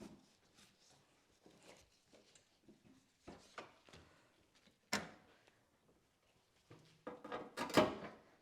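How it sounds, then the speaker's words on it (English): The hood of a 2019 Subaru Crosstrek is popped open, heard as quiet scattered clicks and rattles followed by a couple of sharper latch clunks near the end, close but faint overall. "so let's pop the hood"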